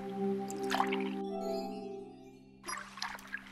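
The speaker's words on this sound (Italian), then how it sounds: "Ok, abbiamo preso un fiaschetto d'acqua." Water gathered into a flask in Eternity: The Last Unicorn, short soft watery drips and pours over a steady tonal music bed, fairly quiet, with no talking.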